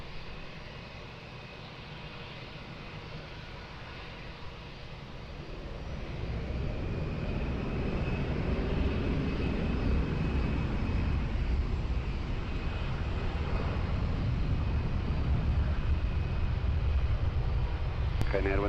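An airplane takes off at Lisbon Airport. Its engine roar swells from a moderate rumble to a loud, sustained broadband roar about a third of the way through, with faint radio voices underneath.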